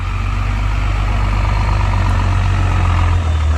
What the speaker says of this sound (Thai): ฮีโน่ขยับตัวแล้วครับ